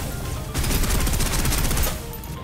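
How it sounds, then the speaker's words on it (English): Rapid burst of suppressive automatic gunfire in the Snowbreak video game, dense loud rattling shots sustained for over a second, framed by a lower wash of ambient noise before and after. "Suppressive fire."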